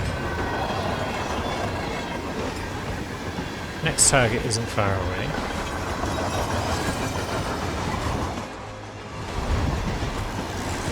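A moving train in the stealth game Hitman Freelancer rumbles steadily with rattling wheels, a brief metallic squeal partway through and a short dip near the end, while a voice speaks over the noise.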